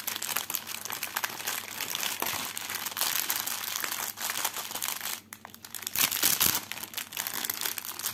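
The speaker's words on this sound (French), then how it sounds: "dernier bruit de sachet de la vidéo" A plastic bag crinkles and rustles steadily at close range, with a short pause in the middle, while diamond painting supplies are unboxed.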